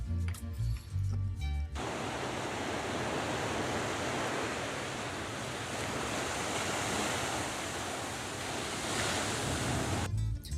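Steady roar of ocean surf rolling onto a Pacific beach in Costa Rica, loud and continuous, with brief bursts of other noise at the very start and end.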